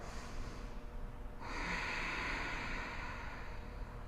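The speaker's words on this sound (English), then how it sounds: "Still breathing, Ujjayi breath." Ujjayi breathing during a slow yoga flow: a steady, hushed, ocean-like breath through the throat, soft and close, sustained for several seconds with no talking.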